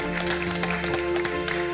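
Clapping for the Mumbai dabbawalas in a MasterChef India kitchen, scattered claps layered over sustained music with steady tonal notes, fairly loud throughout.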